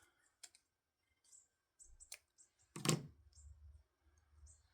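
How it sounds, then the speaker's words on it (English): Scissors snip off the tied ribbon end on the back of a handmade three-panel card: one sharp, close cut stands out among a few faint clicks and small handling noises, with no talking. "I'm going to snip this off the back."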